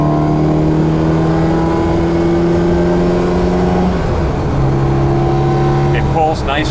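A 1974 BMW 2002tii with a five-speed gearbox pulls hard in third gear around 4,000 rpm, its steady engine drone loud and close before dipping briefly at a gear change and climbing again.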